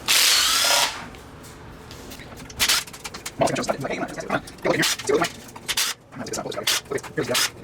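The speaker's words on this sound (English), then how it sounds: "Let's get these oil pan bolts out." A power drill or impact tool backs out the oil pan bolts on a Subaru Forester during a head gasket and clutch job, starting with a loud sustained whir, then shorter bursts broken by clinks and handling noise in a garage.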